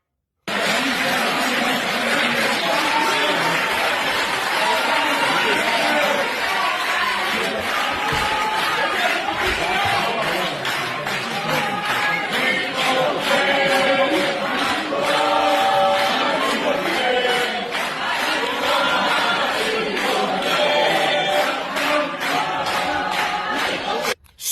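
A recorded crowd at the Israeli Supreme Court gives a standing ovation, cheering and chanting in a dense, loud, unbroken roar that lasts about twenty-four seconds.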